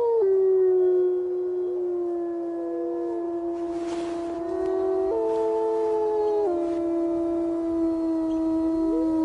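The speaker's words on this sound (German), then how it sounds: "Ich war überrascht, dass ausgerechnet Lakota am schönsten heulen konnte." A wolf howls in a long, sustained, mournful tone, its pitch gliding and stepping up and down across several seconds, clear and close with little background noise.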